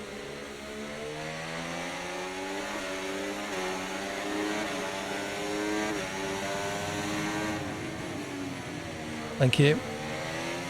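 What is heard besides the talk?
turbocharged Alpine race car engine in a video game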